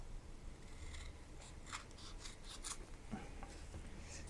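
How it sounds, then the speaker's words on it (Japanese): Scissors cutting through silk taping tape, a series of short crisp snips and rubbing scrapes at close range, alone without talk. "こういうふうに切ります。"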